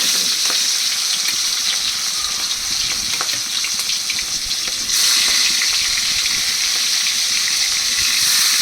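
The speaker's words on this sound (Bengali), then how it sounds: "মাছগুলোকে এপাশে পাশ করে একটু লাল লাল করে সামান্য হালকা হালকা করে একটু ভেজে নেবো" Pieces of aar fish frying in a pan with potatoes nearby, a loud continuous crackling sizzle close up that swells brighter halfway through, with occasional spatter pops and no talk.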